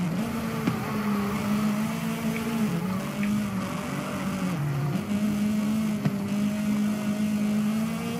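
A Toyota Supra's engine in the Forza racing game, a steady droning hum that dips and rises slightly with shifts and throttle changes, held at an even level throughout with no talking.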